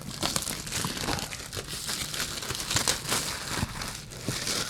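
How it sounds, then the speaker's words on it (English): Plastic shrink wrap crinkles and tears as it is stripped off a Twilight Imperium 4th Edition board game box, a close, continuous run of crackly rustling with sharper snaps, and no voices. "Let's crack this plastic."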